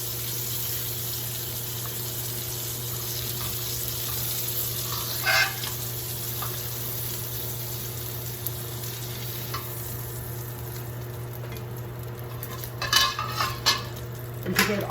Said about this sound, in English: Put them in the other fry pan and let them finish cooking